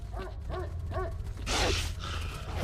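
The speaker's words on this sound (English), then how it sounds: "Oh, I hear a ton of dogs." Three evenly spaced dog barks ring out close and loud, then give way to a burst of noisy static, amid a low rumbling wilderness ambience in S.T.A.L.K.E.R. Lost Alpha.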